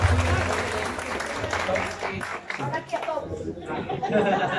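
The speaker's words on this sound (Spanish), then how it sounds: "Y que se escuchen fuertes aplausos, señores." Audience applause at a Colombian youth mariachi performance for a quinceañera, a loud sustained wash of clapping mixed with crowd chatter and voices throughout.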